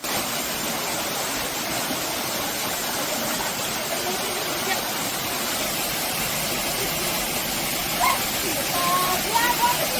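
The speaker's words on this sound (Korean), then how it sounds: "아, 여기가 연합폭포구나." Yeonha waterfall in a valley in Yeongwol, Gangwon-do, heard as a steady, full rushing of falling water that stays even and unbroken throughout.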